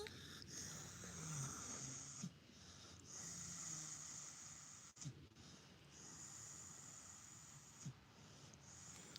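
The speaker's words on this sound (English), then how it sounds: "You guys hear her breathing?" A pet breathes and snores softly close by, in slow rasping cycles with wheezy hisses, faint and steady over a quiet background.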